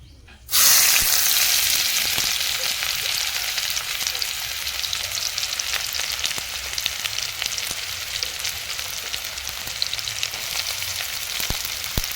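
Onion, ginger, cumin and garlic hit hot oil in a pan, erupting into a loud, dense sizzle that holds steady for about twelve seconds, with occasional scraping stirs.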